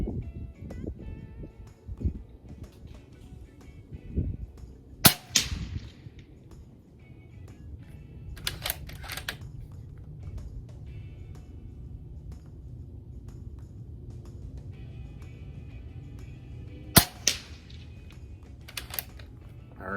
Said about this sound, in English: that was 9 shots with the suppressor and the baffles